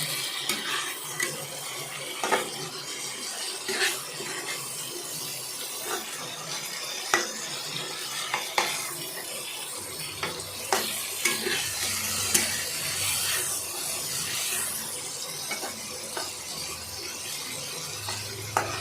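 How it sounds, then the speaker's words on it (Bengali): Bhetki fish fry cooking in a pan makes a continuous sizzle, with repeated stirring and scraping knocks and a watery, tap-like wash in the background, with no voices. "এবার এপিঠ ওপিঠ করে ভালো করে ভাজতে হবে।"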